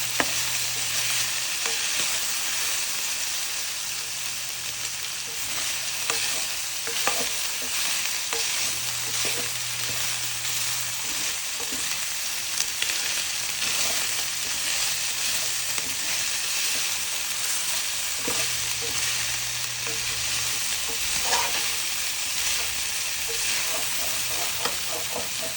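Garlic for chopsuey frying in hot oil, a steady loud sizzle with intermittent stirring scrapes, plus a recurring low hum, close and continuous with no talking.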